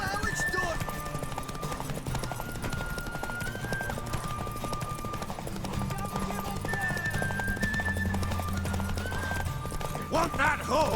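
A horse in The Witcher 3 video game, clip-clopping steadily along with a couple of whinnies, mixed with game music and voices talking over it.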